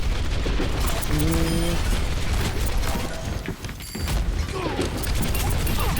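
Explosions and weapon fire during a chaotic Overwatch match: a continuous barrage of booms and crashing impacts, loud and close, with a brief lull in the middle before the blasts resume.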